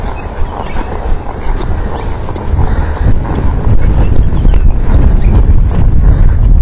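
A horse's hooves clip-clop steadily during a riding lesson as the rider balances the horse at a working pace, partly masked by loud, constant wind rumbling on the microphone.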